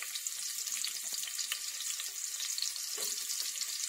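Onions frying in hot oil for a chicken curry, a bright continuous crackling sizzle close up with a brief burst partway through, no voices.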